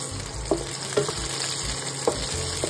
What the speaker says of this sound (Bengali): কড়াই সাদা তেল গরম করে রসুন, কাঁচা লঙ্কা, পেঁয়াজ আর ক্যাপসিকামটা ভেজে নেব।